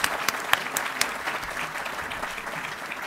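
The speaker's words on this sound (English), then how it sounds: "let's give our guests an applause" An audience at a talk applauds its guests, ambassadors, with dense, steady clapping and a few sharper claps standing out near the start, held at moderate volume.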